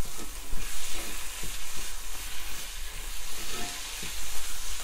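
Chili and coriander powder sautéed in a pan for paneer curry, a steady close sizzle with rhythmic stirring scrapes running throughout, no voices.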